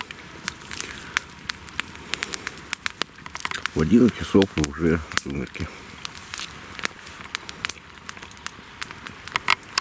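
A campfire at a wild taiga fishing camp crackles, with sharp scattered pops and snaps running throughout while someone talks nearby.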